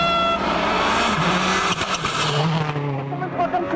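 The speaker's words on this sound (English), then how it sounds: "the Frenchman looking completely in control as he guides the Citroen around the classic vineyard stage to set the quickest time" A Citroen WRC rally car tackles a vineyard stage at the 2003 Rallye Deutschland, its engine revving hard and shifting pitch through the gears, with a touch of tyre noise, loud and close throughout.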